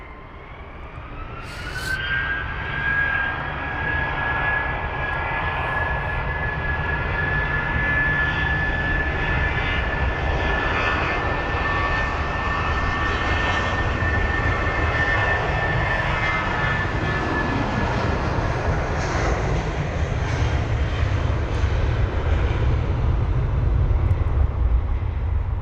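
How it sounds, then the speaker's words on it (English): An Airbus A320 takes off at London Heathrow, its engines building into a loud, steady roar with a sustained whine that holds strong and close throughout, alone with no voices. "Off the 320 goes."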